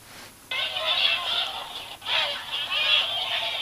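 Angry Birds game sounds play on a Huawei S7 Android tablet: two bursts of squawking, honking bird-like cartoon calls, clear and fairly close, with a short gap between them.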